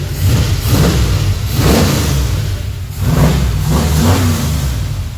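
A car engine runs close by, revving up in several surges over a steady low rumble, rising and falling in pitch.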